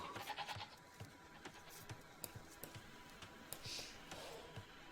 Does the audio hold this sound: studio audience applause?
no